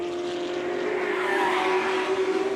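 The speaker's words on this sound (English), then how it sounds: "I'm starting to think I can hear things not being quite right from the engine note of our race leader." Engine of a race car leading a circuit race, a sustained loud droning note that rises slightly as it passes, with no talking.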